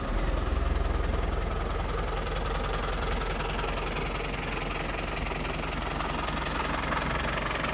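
A 1996 Land Rover Defender 90 with a 300 Tdi 2.5-litre turbo diesel idles nearby with a steady, rough, clattering rumble and a fast diesel knock, loud and alone with no voices.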